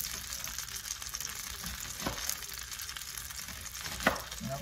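Onions frying in a pan for a caramelized salmon dish, a faint hiss throughout with a couple of sharp utensil clicks, quiet and alone.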